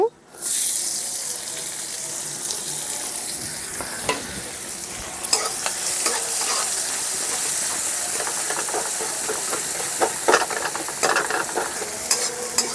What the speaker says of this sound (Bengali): এখন পেঁয়াজটাকে একটু ভাজা ভাজা করে নেব।